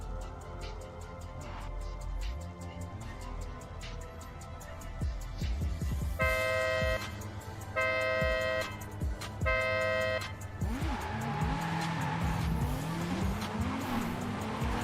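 Cars drifting in Forza at Moto Arena Lodz during a drift competition main event, with engines droning and rising tire squeals that screech and wobble. A run of repeated horn-like tones sounds midway, all loud and continuous.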